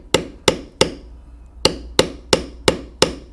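A mallet taps a leather carving tool for beveling, giving eight sharp, close knocks in an even rhythm with a short pause after the third.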